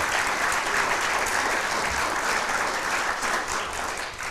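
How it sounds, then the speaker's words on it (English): Steady, dense audience applause at a Richland fire department badging ceremony, a full room clapping continuously at an even level throughout, with no one speaking over it. "So let's give these guys a round of applause as well"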